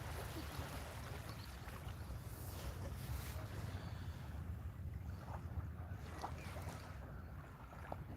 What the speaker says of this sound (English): You let the waves put you to sleep, Vivian.